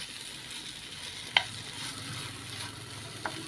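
Eggplant slices frying in a pan give a soft, steady sizzle, with a sharp clink as a utensil turns them once and another faint tap near the end.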